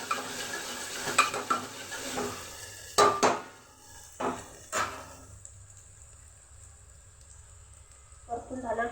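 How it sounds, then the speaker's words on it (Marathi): Mutton being sautéed in a pan for spicy mutton curry: sizzling and spoon scrapes with sharp clinks against the pan, then quieter gaps before the stirring resumes, with talk in places. "परतून घेऊ."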